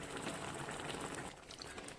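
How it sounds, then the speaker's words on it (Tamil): Tamarind water simmering with tomatoes for Tamil thakkali thokku, a steady bubbling and hissing boil heard close up with no voices. "புளியை அப்படியே ஊற்றிடுங்க. இதுலேயே பச்சை வாடை போக இது நல்லா கொதிக்கட்டும்."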